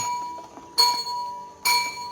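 A temple bell is struck twice to signal sweeping time, and each bright metallic strike rings out with a sustained shimmering tone over a quiet background.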